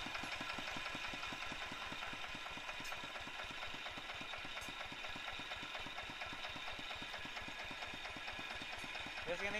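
A smoky diesel engine idles steadily with a fast, even knocking pulse and a low, constant drone throughout, heard fairly faintly with no talking.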